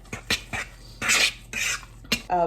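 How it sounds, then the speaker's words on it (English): A utensil stirs and scrapes wonton dumpling filling in a bowl, with several short clinking and wet mixing strokes close by. "I kind of just coat it all over and then I stir it again"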